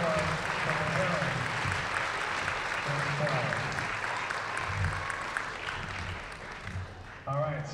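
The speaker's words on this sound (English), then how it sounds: "Would you give him a round of applause?" Audience applause at a Kenosha Symphony Orchestra holiday concert, sustained clapping from a full hall lasting several seconds and tapering off, with a voice speaking over it in places.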